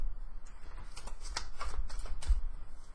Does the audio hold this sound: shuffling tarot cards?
yes